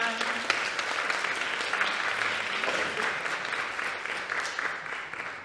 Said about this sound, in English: if you could just give them a round of applause to say thank you